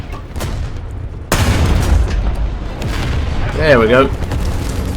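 A heavy booming bomb blast in the War Thunder video game, erupting suddenly and loud over engine rumble, with someone talking briefly near the start.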